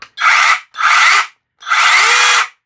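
Battery-powered Votrek mini chainsaw revving in three loud, close bursts, each about half a second to a second long, with the high whine dropping to silence between bursts.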